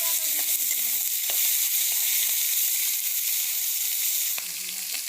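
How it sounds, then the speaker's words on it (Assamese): Green chilies frying in hot oil in a pan, a steady bright sizzle and hiss running throughout with a few faint clinks, slightly quieter near the end. "এইটো মানে জলকীয়া ভাজি হ'ব"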